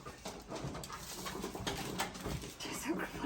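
A dog whines and whimpers in short, plaintive bursts over a muffled, noisy background, fairly close, with faint voice-like sounds mixed in.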